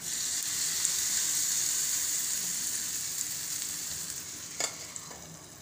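A hot tempering of curry leaves and asafoetida sizzles loudly as it is stirred into a Rayalaseema-style tamarind pickle, a steady dense hiss that fades a little, with a couple of brief clinks near the end and no talking.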